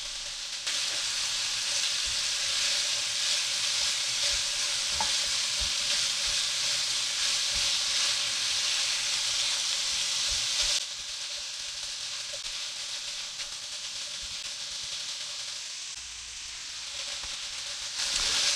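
Meat browns in a pan as part of a pumpkin spice lasagna, giving a loud, even hiss and sizzle for about eleven seconds. It then drops to a softer, steady frying hiss with occasional light scrapes.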